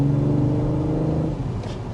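A 2025 BMW X3 M50 engine running with a deep, steady rumble, close and loud, easing off slightly toward the end, no talking.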